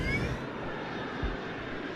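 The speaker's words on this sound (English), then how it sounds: "40 minutes after midnight, Flight 370 is cleared for takeoff." Malaysian Airlines jet airliner roaring on its takeoff run, a steady loud engine rumble with a faint high whine that holds throughout.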